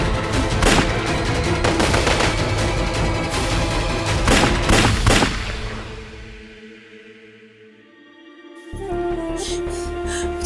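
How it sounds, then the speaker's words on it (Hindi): Indiscriminate gunfire from both sides crackles loudly and chaotically for several seconds, fades into a low lull, then a sharp, steady tone and renewed noise return. "दोनों तरफ से अंधाधुंध गोलियां चल रही हैं।"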